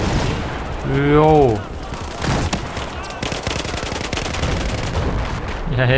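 Bursts of gunfire and explosions rattle through a Battlefield 4 battle in snowy terrain, dense rapid cracks and booms filling the scene while someone talks over the game sounds.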